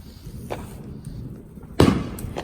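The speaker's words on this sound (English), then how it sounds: "if you guys were out there seeing those fireworks, hopefully you guys heard loud ones" Fourth of July fireworks explode outside a house: a faint pop first, then a much louder, sharp bang that rumbles briefly, over steady outdoor background noise.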